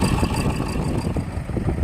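A T-25 tractor engine labours under heavy load while plowing long-untilled grassy virgin soil, a dense, steady low rumble holding at constant loudness throughout with no voices.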